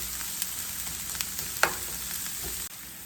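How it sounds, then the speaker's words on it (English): Onion cooks in olive oil in a pan, giving a steady close sizzle with a few faint stirring clicks and no talking. "Gonna put the onion. I'm going to let it cook and brown just a little bit."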